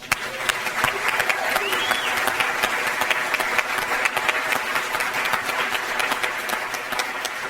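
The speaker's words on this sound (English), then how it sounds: "Give yourselves a round of applause." An audience in Corvallis applauds itself at a public discussion event. Dense, even clapping fills the room for several seconds at a strong, steady level, with a low hum beneath it.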